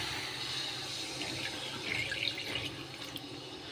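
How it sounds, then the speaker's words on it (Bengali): Water splashes and hisses steadily as it is poured into a pan of fish curry with potatoes, a continuous close rushing pour with no talking. "এবার দিয়ে দেবো পরিমাণ মতন জল"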